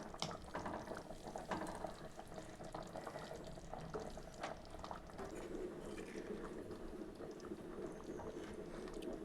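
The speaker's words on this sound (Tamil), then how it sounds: "இப்போ மண் சட்டின்றதுனால பாருங்கள், கேஸ் ஆஃப் பண்ணதுக்கப்புறமும் கொதிக்குது குழம்பு" Aara fish curry (kulambu) keeps bubbling in a clay pot after the gas is switched off, a soft, continuous simmering burble with small pops, quiet and close.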